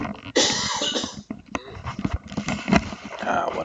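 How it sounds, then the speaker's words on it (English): A person coughs and clears their throat a few times at close range, with short bursts mixed with speech-like sounds. "Excuse the thing here, I'm going to cough."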